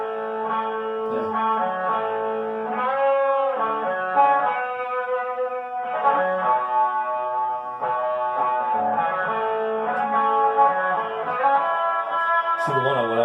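A distorted electric guitar solo recorded as two takes panned hard left and right, with sustained bent notes and fast melodic runs through effects, playing continuously and loud for the whole span.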